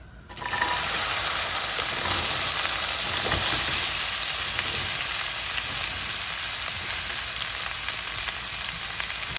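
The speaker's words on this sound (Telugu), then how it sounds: "నూనె మరిగింది. ఇప్పుడు ఇందులో బెండకాయ ముక్కలు వేస్తున్నాను చూడండి" Okra pieces dropped into hot oil burst into a loud, steady, close sizzle that holds throughout with fine crackling.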